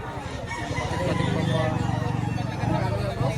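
A bulik gamecock rooster at a poultry market in Lipa, Batangas crows and clucks close by, partly masked by someone talking over it.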